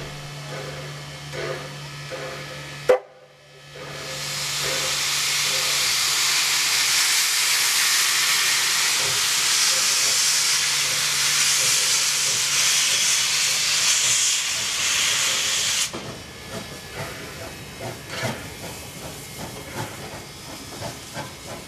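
Steam locomotive 3265 vents a loud, continuous roaring hiss for many seconds as it shunts toward a water tower near a museum, ending abruptly into quieter clanks and rail noise.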